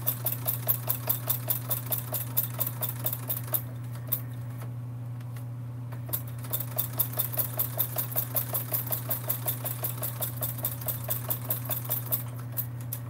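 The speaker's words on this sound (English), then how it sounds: "Stitching on vinyl makes me very nervous because there are no do-overs." A sewing machine stitches vinyl for a sling bag, its rapid needle clatter running steadily and close with a strong motor hum beneath, pausing briefly midway before resuming.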